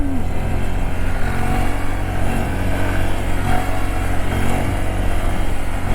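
A 2022 Honda Grom motorcycle engine revs hard and steadily during a wheelie, a loud, continuous close-up drone with a rising and falling pitch and no talking.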